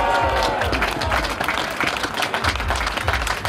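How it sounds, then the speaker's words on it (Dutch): A crowd applauds at the podium ceremony of the elite men's Parkcross cyclocross race in Maldegem, Belgium. The clapping is dense, loud and sustained, with a continuous crowd wash under it. "En uw applaus, dames en heren, voor Tim Merlier."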